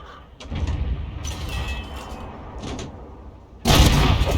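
A tank cannon fires in a World of Tanks-style match featuring a T26E5 Patriot: a single loud, abrupt blast near the end, following a steady low engine rumble and mechanical clanks.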